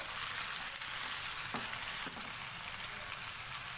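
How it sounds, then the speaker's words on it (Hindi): Chicken sizzling in a pan with onions over a high flame, a steady dense frying hiss running throughout with a few faint stirring knocks, close and continuous. "चिकन को 1 से 2 मिनट फ्राई करेंगे प्याज के साथ"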